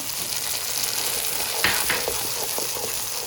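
Cashew and onion paste sizzles and fries in a hot pan for chicken changezi, a steady loud crackling hiss with a few stirring scrapes.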